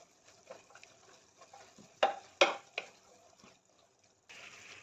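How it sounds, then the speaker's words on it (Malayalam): Paneer pulao being stirred together with rice in a pan, quiet scraping and soft wet stirring with a few sharper clatters and a faint sizzle. "നല്ലപോലെ അതിനെ മിക്സ് ചെയ്ത് കൊടുക്കുക"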